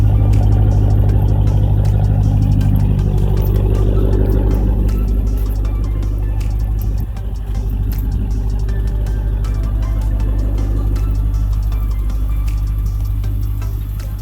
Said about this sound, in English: Custom exhaust.